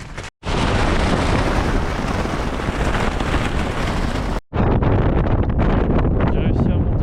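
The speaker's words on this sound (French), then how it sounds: "Il y a énormément de vent." Strong wind buffeting a microphone at a mountain campsite at dawn, a loud, roaring, continuous rush that cuts out briefly twice before returning at full force.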